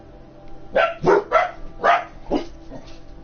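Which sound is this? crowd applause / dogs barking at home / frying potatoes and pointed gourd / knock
dogs barking at home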